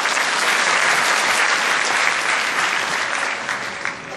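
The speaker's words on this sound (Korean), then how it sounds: "그럼 큰 박수 부탁드리겠습니다" A seminar audience at a Windows 8 developer talk breaks into strong, continuous applause from many people, holding steady before easing slightly at the close.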